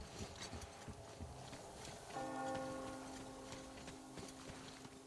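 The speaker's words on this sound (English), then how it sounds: "You hear that bell?" A bell rings in the Metro Exodus video game, a faint sustained tone that starts partway through and fades slowly over a low, busy ambient background with scattered clicks.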